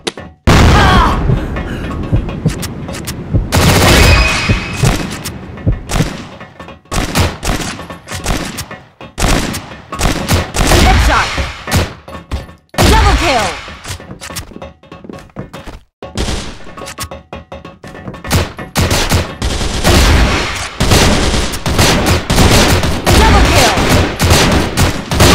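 Grenade blasts and rapid gunfire from the online shooter CrossFire, with a Steyr TMP-CFS 2018 edition gun, sound loud and dense. Booms, thuds and bursts of automatic fire come nearly nonstop, with only brief gaps.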